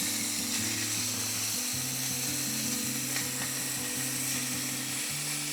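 Pieces of chicken fry in a pan at a camp cooking setup for gochujang chicken and rice, giving a steady, close, continuous sizzle with a low mechanical hum running underneath.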